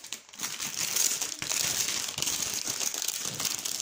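Crinkling paper and packaging rustle continuously as a craft box is unwrapped by hand, close and fairly loud, with short crumpling bursts and no speech.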